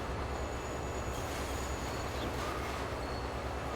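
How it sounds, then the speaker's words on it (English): A train rolls along the rails in the railway strategy game Transport Fever 2, giving a steady, continuous rumble with a faint high wheel squeal that holds at an even loudness throughout, with no talking. "Another train on the left is moving"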